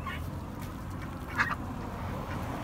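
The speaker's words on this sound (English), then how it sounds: "ducks, our duck ponds" Ducks quack at farm duck ponds in a Central Florida food forest, with a couple of brief calls rising above a steady low outdoor background.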